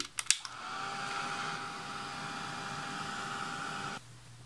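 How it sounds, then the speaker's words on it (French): A heat gun blows hot air to dry paint on a scrapbooking project, a steady loud whoosh with a faint whine that runs for about three seconds after a few clicks, then cuts off to a quiet hum. "je peux m'aider avec mon heat gun"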